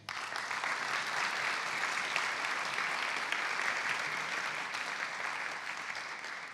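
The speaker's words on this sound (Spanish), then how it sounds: "Fuerte aplauso para ella." Audience applauding a panelist at a sustainable mobility forum in Mexico City, a fairly quiet, even spread of clapping from a room that continues steadily throughout.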